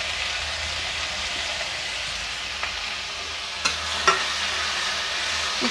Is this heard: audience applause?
no